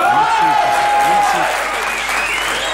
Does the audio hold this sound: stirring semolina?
no